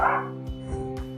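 Teddy the dog lets out a few short barks, fairly close and moderately loud, over a steady low hum in an indoor room.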